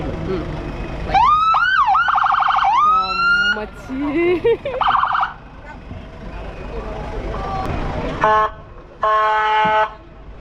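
Police vehicle sirens wail and yelp at an air show, loud and close, in rising and falling sweeps with short pauses between bursts and quick electronic whoops near the end. Background crowd noise runs underneath.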